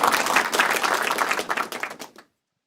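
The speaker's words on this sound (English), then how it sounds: "I'm going to give you another round of applause" A recorded round of applause is played during a virtual pigeon club session: dense, steady clapping that fills the clip for about two seconds, then cuts off abruptly into silence.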